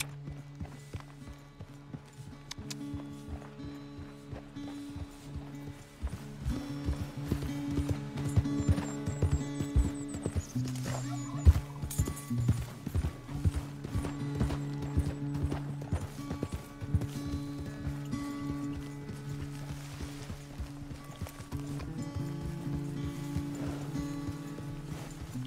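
Horse hooves clip-clop steadily in Red Dead Redemption 2, a rhythmic moderate beat running under a low hum and game ambience, with no talk over it.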